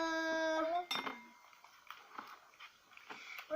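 Spoon stirring an edible slime mixture in a bowl, scattered close clinks and scraping taps following a tonal squeak at the start, fairly quiet.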